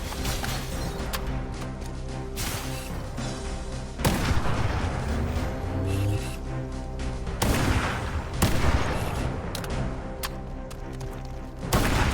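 Halo video game gunfire: heavy bursts of rapid shots and booming blasts, loud and close, coming in several waves with brief lulls between them, no talking.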